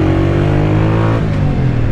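A Honda CG 125 motorcycle accelerating while ridden: a loud, close, steady engine drone that shifts in pitch about halfway through, with no talking.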